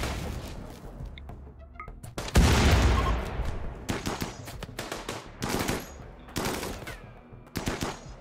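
Gunfire in the colony-building video game RimWorld comes as bursts of close, sharp shots and rattling volleys, with one heavy blast partway through and scattered single cracks after it, heard without talk.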